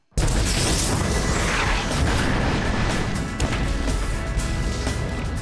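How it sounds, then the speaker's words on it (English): A cloud of coffee creamer powder mixed with air ignites in a large dust explosion, a sudden roaring blast that stays loud and sustained as a broad rumbling wash for several seconds. "In slow motion, we could see the mixture of creamer and air explode violently"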